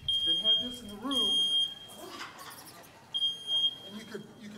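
A smoke detector alarm sounds as a steady high electronic tone that drops out and returns, under people talking nearby.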